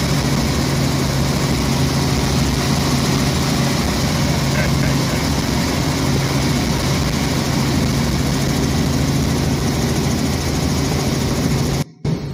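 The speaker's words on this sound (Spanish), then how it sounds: "El helicóptero pasa, ese es un Robinson 44, pasa más o menos a 100 kilómetros por hora" Robinson 44 helicopter flying past at about 100 km/h, a loud continuous engine and rotor drone that holds steady throughout before cutting off abruptly at the end.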